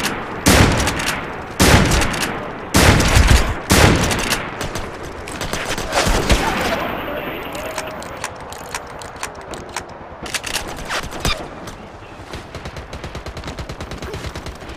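Gunfire in the online shooter MAG during a Sabotage match: loud automatic bursts and rapid volleys in the first seconds, then lighter scattered shots trailing off.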